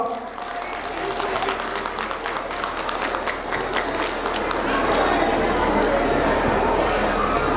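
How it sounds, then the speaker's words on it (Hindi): Audience applause welcoming children at a school annual function, broad clapping mixed with crowd chatter and movement, growing fuller and louder toward the end. "जरा जोरदार तालियों से स्वागत करें इन बच्चों का"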